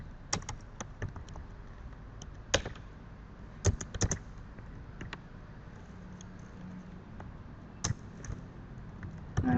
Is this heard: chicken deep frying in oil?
no